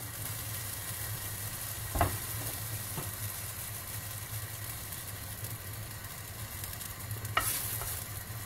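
Light pancake batter cooks in a frying pan with a steady, soft sizzle and a low hum, broken by a couple of brief knocks or clicks, with no voices.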